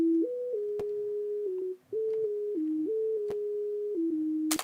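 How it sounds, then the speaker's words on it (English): A basic lead sine tone played on a keyboard as a harmony line, a pure clean pitch stepping between a few notes in a short melodic phrase with brief gaps and faint clicks. "This is just a basic lead sine tone, which is used as a harmony for the lead guitar."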